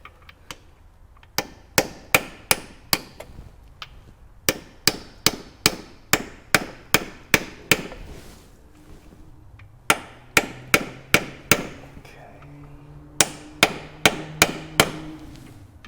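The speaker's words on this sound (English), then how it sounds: "just use a socket and a hammer, and then evenly" A hammer taps a socket to drive a seal into place during a clutch replacement on a 2016+ Mazda MX-5 Miata, giving sharp metallic strikes in quick runs of about six to eight, separated by short pauses, close and alone.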